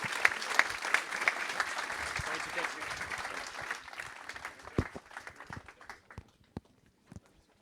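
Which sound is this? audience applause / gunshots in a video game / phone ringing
audience applause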